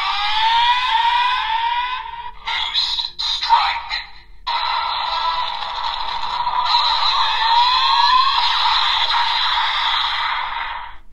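Kamen Rider Geats Desire Driver toy with the Boost buckle playing its electronic strike sound, a shrill tinny siren-like tone with rising sweeps and choppy bursts from a small speaker, continuous and fairly loud.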